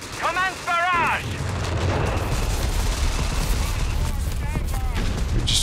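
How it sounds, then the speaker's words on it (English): Artillery shells from a Company of Heroes 3 barrage pound down in a continuous rumbling wash of booms and crackling blasts, loud and sustained throughout, with brief radio-like voice chatter at the start and near the end. "Just artillery coming in"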